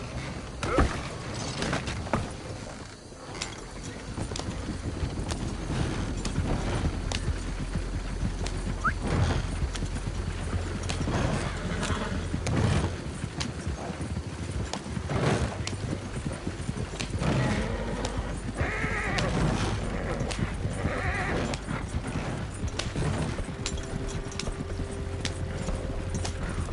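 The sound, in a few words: horse galloping in Red Dead Redemption 2 video game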